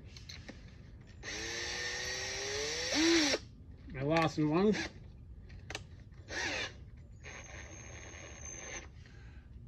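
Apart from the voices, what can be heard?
power drill with left-hand drill bits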